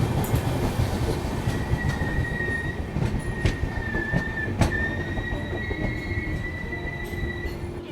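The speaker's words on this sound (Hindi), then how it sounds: "हमारी ट्रेन जो है वो पहुंच रही है वारंगल" Kashi Tamil Sangam Express pulling into Warangal station at night, steady rolling rumble with sustained wheel squeal tones and occasional sharp clanks, heard close from inside a coach.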